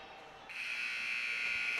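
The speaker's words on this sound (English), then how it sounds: "as the buzzer sounds here to end the second period" A hockey rink buzzer sounds a steady, loud electronic tone ending the second period of a girls' high school hockey game, holding continuously to the end with faint arena ambience.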